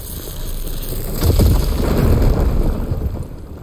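A fire gleam ignites in Horizon Forbidden West with a deep, rumbling whoosh that swells after about a second, holds for a couple of seconds, then fades, loud and close with no talking.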